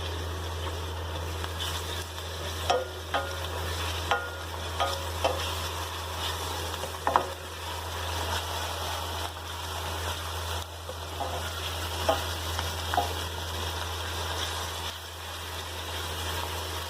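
Ginger and garlic paste frying with light-browned onions in a pan for a chicken karahi, a steady sizzle with intermittent scraping stirs and a low constant hum underneath.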